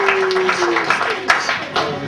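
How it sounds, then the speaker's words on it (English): Wedding guests clap for Sean in a short burst of applause, a mix of individual claps and a quieter crowd patter under a faint voice. "Give a nice round of applause."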